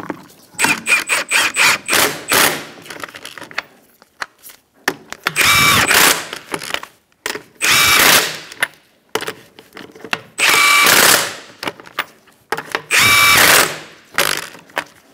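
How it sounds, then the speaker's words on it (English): An impact-style power tool runs up lug nuts on a 2004-2009 Mazda 3 wheel in loud, close bursts of a few seconds each, separated by short pauses, with a spinning whine and rattling hits. "I like to walk my wheel on using this bottom lug nut and then tightening in a star-like pattern."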